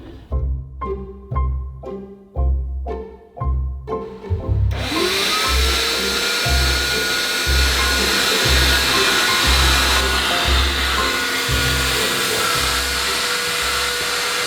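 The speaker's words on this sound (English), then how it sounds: "don't surprise a woman with a seat cleaning machine this early" A loud, steady mechanical motor whine runs continuously after several seconds of rhythmic thumping, an upholstery seat cleaning machine switched on up close aboard a boat.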